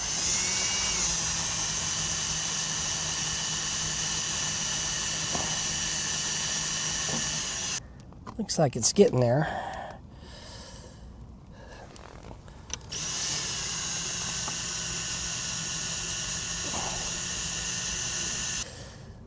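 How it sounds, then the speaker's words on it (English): An underwater drill bores into a light stainless steel tube with a steady, high-pitched whine. The whine cuts out for a few seconds while muffled bubbling and handling noise take over, then resumes. A voice speaks briefly during the pause. "stainless steel is really hard to drill, even though it's a real light tube"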